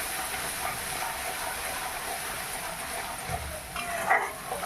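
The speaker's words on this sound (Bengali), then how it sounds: "এবারে ভালোভাবে নেড়ে চেড়ে মশলাটা আমি কষিয়ে নেব।" Spice masala is stir-fried in a pan for a potato and papaya vegetarian dish, producing a steady, close hissing sizzle with a few louder scraping stirs toward the end.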